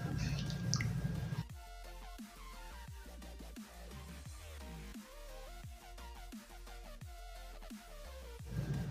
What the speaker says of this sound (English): you have to mix it very well using a wooden spoon